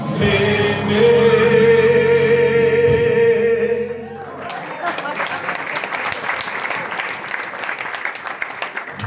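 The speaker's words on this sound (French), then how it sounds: "On remarquerait qu'il y a que la tête des vieux qui applaudissent" Audience applauding at a live stage show, steady loud clapping from a crowd that swells, then gives way to a denser, more scattered round of applause.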